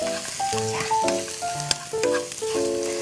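Steady sizzling of onions stir-frying in a pan, with scraping and clinking as they are stirred, loud and close with no talking.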